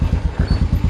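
A motorcycle engine, recorded while riding with a GoPro Hero 8 Black, gives a loud, close, low pulsing throb in quick regular beats with no talking.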